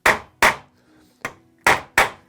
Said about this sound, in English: then I'll come in with a hammer and I'll just give it 2 little taps on each tip